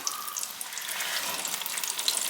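Raw chicken pieces dropping into hot oil in a small home fryer, a steady bright crackling sizzle with scattered pops running throughout, fairly close and even in level.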